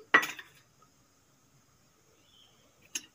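Two oiled bowls set down on a perforated steaming plate for semolina idli, each giving a short metallic clink, one near the start and another about three seconds later, with quiet between.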